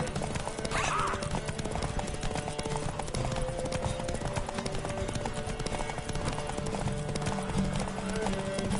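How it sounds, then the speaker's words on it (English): A horse galloping at full speed in The Witcher 3, a fast continuous clip-clop of hooves with a brief whinny-like sound early on and some in-game voices. "Take your mount to her limits."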